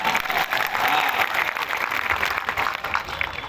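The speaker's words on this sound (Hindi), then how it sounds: "अगर याद है तो ताली बजाओ।" A rally crowd at an outdoor village political gathering in Dhar district claps steadily, dense applause holding loud and continuous for the whole stretch with a slight swell midway.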